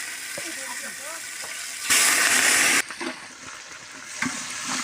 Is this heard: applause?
no